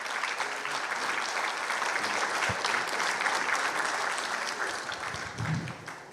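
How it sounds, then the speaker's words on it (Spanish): An audience at a talk on seismic risk in buildings claps to welcome panelists to the stage, with steady, sustained applause from a full room that eases slightly near the end. "los recibimos por favor con un fuerte aplauso"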